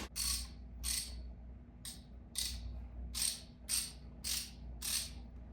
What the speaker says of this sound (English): so I really wanted to feel this ratchet.